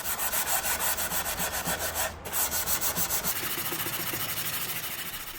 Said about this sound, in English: I'll use this hand sanding block with the rigid side to sand the surface with 180 grit